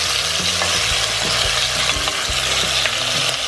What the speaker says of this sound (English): So in the bottom, we will put some oil. And start cooking these steaks.